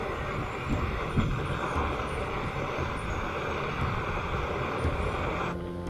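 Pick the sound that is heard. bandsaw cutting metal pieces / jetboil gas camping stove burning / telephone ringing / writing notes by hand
jetboil gas camping stove burning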